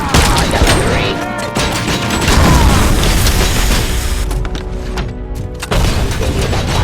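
Artillery explosions in RoboCop: Rogue City, a loud dense barrage of booming blasts and crackling impacts piling on one another, with a brief lull before another heavy hit.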